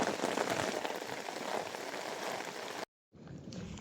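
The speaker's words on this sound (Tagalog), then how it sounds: "napakalakas ng ulan mga parikoy" Heavy rain pours over a fish pond in a loud, dense, unbroken hiss that drops out briefly near the end and then resumes.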